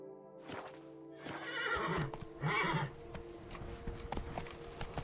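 In The Witcher 3 video game, a horse gives two loud close whinnies, followed by scattered clip-clop of hooves, with steady tonal game sounds underneath.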